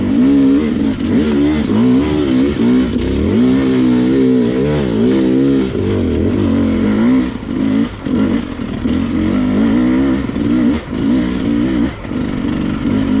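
Sherco 250SE enduro motorcycle climbing a loose hill in second gear, its engine loud and close with a continuous rising and falling rev that pulls steadily under load.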